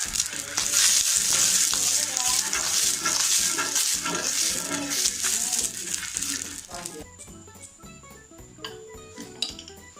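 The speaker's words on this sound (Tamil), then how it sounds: "கல் சூடானதுக்கப்புறம் எண்ணெய் தேய்ச்சிக்கலாம்." Oil rubbed across a hot dosa griddle stone crackles and sizzles loudly, with occasional utensil clinks, then settles to a quieter hiss with light taps.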